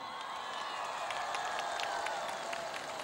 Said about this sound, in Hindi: जरा एक कश्मीर के लोगों के लिए तालियां बजाएं।